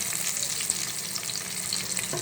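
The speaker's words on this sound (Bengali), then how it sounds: "যে প্যানে আমি মুরগিগুলি ভেজেছিলাম সেই প্যানেই আমি দিয়ে দিলাম গরম মশলা আর তেজপাতা" Garam masala and bay leaves fry in hot oil in a pan previously used for chicken, giving a steady close sizzle with tiny popping crackles throughout and no voices.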